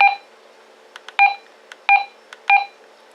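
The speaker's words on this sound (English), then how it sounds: "The beep." Short electronic beeps and tones from a Samcom handheld two-way radio, several in a row with brief gaps, some paired, clear and close with no talking.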